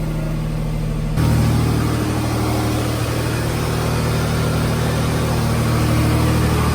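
Jaguar F-Type engine starting after the brake is pressed and the start button pushed, following a jump from a completely dead battery: a brief hum, then the engine catches at once and settles into a loud, steady idle rumble.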